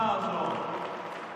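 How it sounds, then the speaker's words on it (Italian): Audience applause at a live comedy variety show, a dense wash of clapping with crowd noise that stays steady and fairly loud before easing slightly across the short stretch. "facciamo un applauso"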